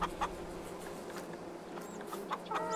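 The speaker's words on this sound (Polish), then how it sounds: "Nie wyrobię na te kury," Hens on a rural Polish homestead clucking in scattered bursts, a few birds close by making short repeated clucks and a sharper call near the end over quiet farmyard background.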